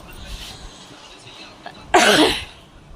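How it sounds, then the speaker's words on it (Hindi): One loud, abrupt cough near the end from someone with a cold and a sore throat, preceded by quiet room noise and faint rustling. "गला भी दुखने लगा है खांसते खांसते।"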